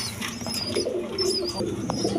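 Pigeons coo in low, rolling, repeated phrases at a pigeon seller's loft, including a single sky-blue male, with faint higher chirps over a steady murmur of background noise.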